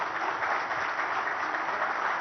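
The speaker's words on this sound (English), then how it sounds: "Let's have a proper round of applause for Himanta Biswa Sharma." Audience at a public event applauds Assam chief minister Himanta Biswa Sharma, a steady, even round of clapping from a large crowd, continuous and moderately loud for the whole stretch.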